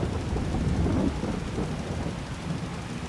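Rain falls in Farming Simulator 22 as a dense, constant hiss with a low rumble beneath it, loud and unbroken with no voices.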